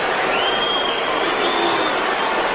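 Crowd of more than 77,000 at a 2007 AFL match between Collingwood and Carlton, a continuous, loud wash of stadium noise with cheering and a thin whistle-like tone above the roar.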